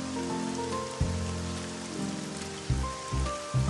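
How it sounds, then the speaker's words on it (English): Rain sound effect in a PAW Patrol video game, a steady patter of rain on a surface with soft game tones and a few low thumps, no talking. "Wow, it's really raining out there."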